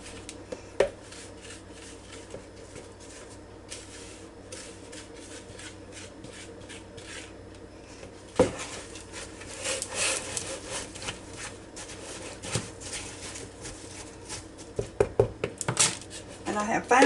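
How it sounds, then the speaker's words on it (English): Apples coated with sugar, flour and allspice are tipped from one bowl to another, giving soft rubbing, scraping and clinking bowl sounds that grow busier and louder toward the end, with faint voice in the background. "just take it a time or two and just dump it from one bowl to the other"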